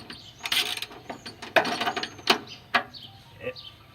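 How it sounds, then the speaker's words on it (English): A 3/8 socket ratchet clicks in short, uneven bursts while removing the bolts holding the coil bracket on a VW Beetle during a tune-up, with close metallic ratcheting and small tool knocks in a quiet garage. "We are using a 3/8 socket to remove the bolts that holds the bracket on for the coil"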